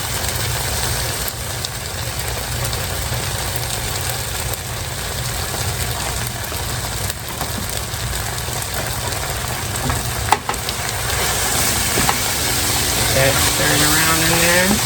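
Vegetables coated in low-carb all-purpose flour stirred in a pan for chicken pot pie spaghetti bake, a steady loud sizzle with scraping stirs and a sharp clink near the end.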